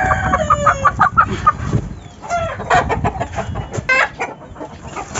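Hens cluck and squawk close by as they are moved one at a time into a new colony cage, giving a loud, busy stretch of overlapping calls with rustling and handling noise.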